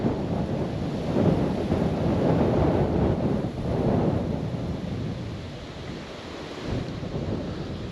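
Strong gusting wind on the Dniester river roars and buffets the microphone in a dense, continuous low rumble that swells and eases, with no voices.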